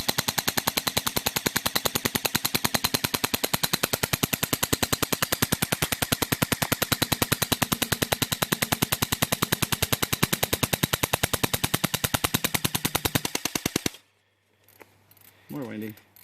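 Rapid sustained gunfire during a field test of a Bear Brothers Tech Bear Sight V2 sight and scope shield at about 3 feet, a dense even string of loud shots for roughly fourteen seconds, then quiet with faint movement.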